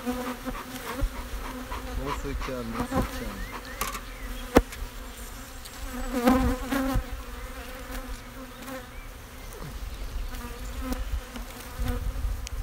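Honey bees buzz steadily around an open hive during a beekeeping inspection of brood frames with honey, a dense close swarm drone that continues throughout, with a sharp click midway and someone briefly speaking French.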